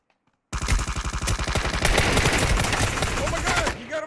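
Rapid automatic gunfire erupts suddenly in a Ring of Elysium video game session, a loud close burst of steady repeating shots lasting a few seconds before it cuts off, with excited voices underneath.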